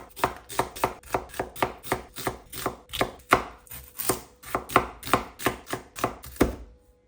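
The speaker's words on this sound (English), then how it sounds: "going to go in with 2 medium-sized onions, and I'm just going to thinly slice them" A knife thinly slicing onions on a cutting board in a steady rhythm, about twenty crisp close strikes in a row, then it stops.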